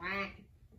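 A single loud, drawn-out quack with stacked bright harmonics, sung in a children's farm-animal song, fading after about a third of a second into quiet room noise.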